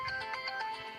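A mobile phone ringtone plays a bright, repeating electronic melody, near and clear, for about a second with no talking.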